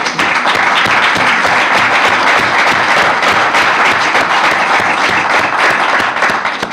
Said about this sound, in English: A round of applause for all of them, if I could, please